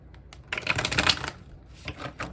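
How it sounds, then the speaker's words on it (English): Tarot cards being shuffled by hand, a quick run of crisp riffling clicks lasting under a second, then a few lighter taps close to the microphone. "I feel like I need to shuffle."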